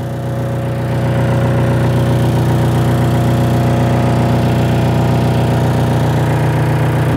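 A bulldozer's diesel engine idles steadily at low revs, a continuous loud rumble with a constant drone throughout and no talk over it.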